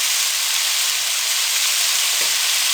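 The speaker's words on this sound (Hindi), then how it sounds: "अब इनको हम 1 से 2 मिनट के लिए अच्छे से फ्राई कर लेंगे" Boiled chickpeas fry in hot oil with spices for chaat, a loud, steady, close sizzle that continues without a break and has no talking over it.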